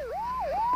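A wailing police siren in a 1992 Filipino comedy film scene, one loud close sweep rising and falling twice, with no talk over it.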